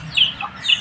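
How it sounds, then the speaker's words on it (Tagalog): Chickens cluck in brief, moderately close calls, a few short soft notes in quick succession without talk. "Daming manok ngayon."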